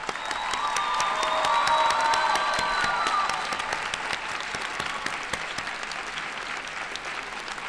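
Graduation ceremony audience at a convention center applauding a row of supporters, a full roomy wash of clapping with faint cheering and tones ringing in the hall, peaking early and then slowly thinning out.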